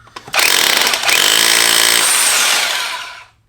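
A loud, close burst from an ENEACRO SDS-Plus rotary hammer drill drilling holes for weight plate holders, starting abruptly, holding a steady rattling grind for about three seconds, then fading out.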